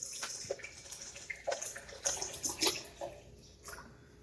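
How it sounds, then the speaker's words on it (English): Water pours into a blender jar for a homemade garden bug spray, a soft uneven splashing and trickling with a few brighter drips, faint and close, with no voices. "we can just simply add 400 ml or 500 ml of water into the blender"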